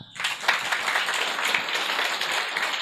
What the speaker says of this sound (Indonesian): Aplaus untuk semangat